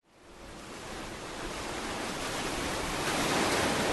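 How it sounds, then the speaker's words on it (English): Gentle ocean waves washing in as a steady, broad surf hiss that swells slightly over a few seconds, continuous and alone with no voices, suited to a seamless loop. "Browse effects for a gentle ocean wave loop."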